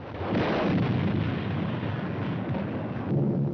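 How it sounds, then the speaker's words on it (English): Aerial bombing explosions over Shanghai in 1937, from a 1944 American film: a dense, muffled rumble of blasts that rolls continuously at steady loudness, with a dull, old-recording tone. "This, the first mass bombing from the air of a helpless civilian population."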